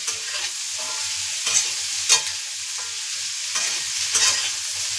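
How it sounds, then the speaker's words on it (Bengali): Pumpkin stems frying in a pan with onions and vegetables, a steady sizzle broken by several sharp scraping stirs at irregular intervals, close and without any voices. "কুমড়ো ডাঁটাগুলো ভেজে নেবো"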